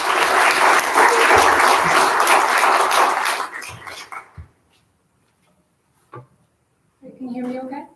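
Audience applause at a BFA thesis reading, dense and steady for about four seconds before tapering off, followed by silence and then a brief spoken voice.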